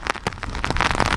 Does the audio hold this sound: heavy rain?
yes